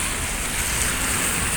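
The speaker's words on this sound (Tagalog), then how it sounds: "It's raining here." Steady, loud rain falls without a break on an afternoon at a Hong Kong market, a dense continuous hiss.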